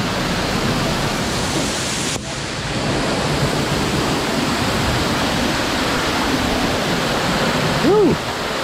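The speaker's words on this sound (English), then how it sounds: "We're behind a waterfall." Steady broadband roar of a waterfall heard from a spot behind the falling water, loud and continuous throughout, with a brief dip near the start.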